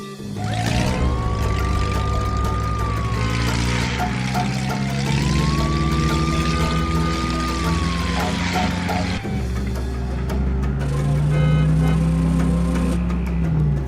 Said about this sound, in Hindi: गाड़ी निकालो टीनू और बाबा के घर चलो